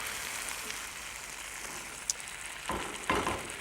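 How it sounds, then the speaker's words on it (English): Moussaka flavouring is stirred in a frying pan, a soft continuous sizzle with a couple of scraping spoon strokes near the end; no one speaks. "Give that a good stir, just to amalgamate everything together."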